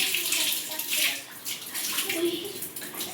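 A water tap runs in a steady gush as a child washes hands, feet and face at home, a continuous splashing stream close by.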